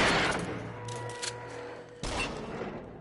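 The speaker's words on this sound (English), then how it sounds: "Just a little warning shot for you." A gunshot fired as a warning shot in the VR shooter game Until Dawn: Rush of Blood, a sharp loud crack at the start followed by a second blast near the end, with a low hum beneath.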